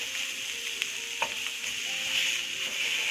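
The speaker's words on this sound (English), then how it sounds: "So let's close the lid and give this potato also a good mix." Potatoes being stirred in a hot pan, sizzling steadily, with a few faint scrapes and taps of the spoon over the constant frying hiss.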